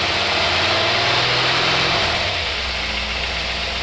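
An engine runs steadily with a deep, throbbing drone, its pitch rising and then dropping midway, with no talking.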